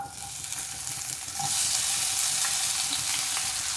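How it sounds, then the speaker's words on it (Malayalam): Crushed onion dropped into hot coconut oil for an ivy gourd stir fry, a loud, close sizzle that swells sharply partway through and keeps crackling steadily, with no voice. "ഇപ്പോൾ വെളിച്ചെണ്ണ ചൂടായിട്ട് വന്നിട്ടുണ്ട്. നമുക്കിനി ഇതിലേക്ക് ചതച്ച് വെച്ച ഉള്ളി ഇട്ട് കൊടുക്കാം."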